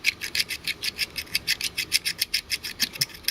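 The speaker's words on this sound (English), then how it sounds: "Just magnetizing a screwdriver." A screwdriver being rubbed to magnetize it makes a quick, steady back-and-forth rasping, about five strokes per second, close and clear with no talk.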